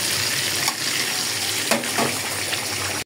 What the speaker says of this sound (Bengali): আর এদিকে মাছও ভাজা হয়ে যাচ্ছে